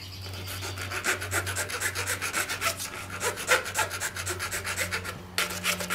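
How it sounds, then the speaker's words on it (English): A file rasps back and forth inside a wooden bow siyah in steady, rhythmic strokes, close and fairly loud over a faint low hum, pausing briefly before resuming. "just stick the file inside and rub it like that"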